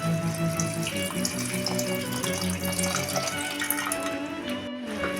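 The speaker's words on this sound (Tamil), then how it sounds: "இது மூழ்கிற அளவுக்கு தண்ணி ஊற்றி" Water runs and splashes into a pot of broccoli and potato pieces for soup, a continuous close pour with a faint ringing tone, no talking.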